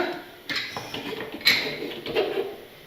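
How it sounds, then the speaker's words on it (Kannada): A few metallic clicks and a scraping clunk as a pressure cooker lid is fitted and locked shut over boiling chicken, close by with no talking. "ಈ ರೀತಿ ಕುದಿಯುವಾಗ ಕುಕ್ಕರ್ ಲಿಡ್ನ ಕ್ಲೋಸ್ ಮಾಡ್ಕೊಳ್ಳೋಣ"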